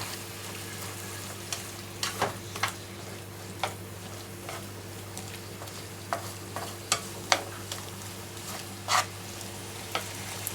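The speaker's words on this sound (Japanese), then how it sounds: "でこれが汁気がなくなるまで炒めます。" Burdock root kinpira stir-fries in a pan under a low constant hum, with soft sizzling and scattered clicks and scrapes of utensils stirring the slices at irregular intervals.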